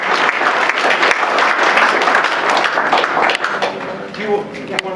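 A room full of people applauds steadily at a Veterans Day ceremony, a dense patter of clapping that tapers slightly toward the end, with some voices mixed in.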